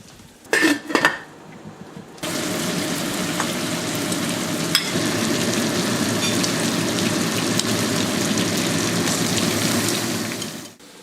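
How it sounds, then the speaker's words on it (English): Pot of Chinese watercress soup with pork shank: a few clattering knocks of a pot lid or utensil, then a steady, close rushing bubble of boiling that continues evenly before fading at the end. "So continue to boil for the another hour and a half or so."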